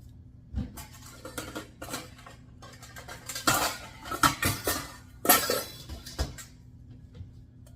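A ceramic bowl picked up and set down in a home kitchen while making hummus, with a series of sharp clinks and knocks of dishes and utensils, close and fairly loud against quiet background.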